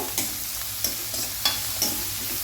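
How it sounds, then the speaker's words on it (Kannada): Green chillies and curry leaves sizzle in hot oil, punctuated by a few sharp scrapes of a spoon stirring the pan. "ಇದನ್ನೆಲ್ಲ ಫ್ರೈ ಮಾಡುವ."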